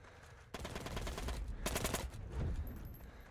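Rapid, sustained gunfire from the video game Heroes & Generals, a dense fusillade of overlapping shots with two louder bursts, steady and fairly loud throughout with no talking.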